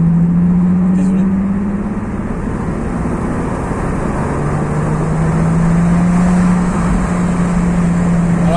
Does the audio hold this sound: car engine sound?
yes